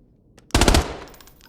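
In the shooter game Arena Breakout Infinite, a close, loud burst of rapid automatic gunfire lasts about a quarter second and then dies away.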